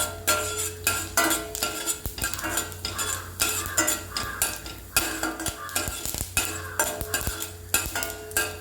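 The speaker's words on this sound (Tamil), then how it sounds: "உளுந்தம்பருப்பு நல்லா செவக்க வறுக்கணும்" Urad dal roasts in a pan for a bitter gourd and carrot poriyal, with a rhythmic scrape and clink of the spoon repeatedly stirring over a low sizzle, loud and close.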